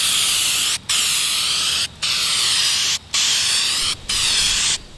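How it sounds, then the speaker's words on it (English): Aerosol spray paint hissing in four steady bursts of about a second each onto an engine cover panel, separated by short pauses, loud and close. "give the can another shake, do a test shot, and then spray over the entire panel once more"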